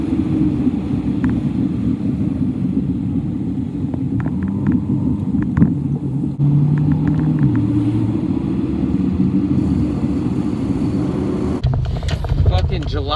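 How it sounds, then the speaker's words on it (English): Road traffic heard from inside a moving car, a steady engine and road rumble with wind noise running throughout and a few brief clicks and knocks. "Traffic is insane right now"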